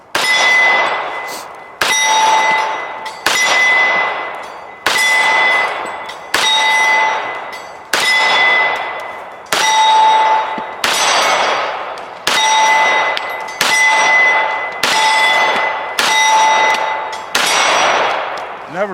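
Steel gong targets hit by FN FNX-45 .45 pistol rounds give a dozen loud, ringing metallic clangs at a slow, steady pace, each sharp strike followed by a short fading ring.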